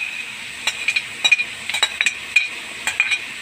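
Sea shell sisig sautéing in a pan, with a steady sizzle under an irregular run of light metallic clinks and scrapes from stirring, close and fairly quiet.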